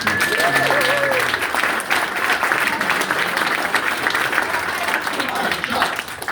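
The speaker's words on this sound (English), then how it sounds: "let's do a round of applause quick for Mike Zimmer and for Todd Bowman." Town hall audience applauding in a packed room, sustained clapping from many people that stays loud and even for several seconds, with voices and scattered cheers mixed underneath.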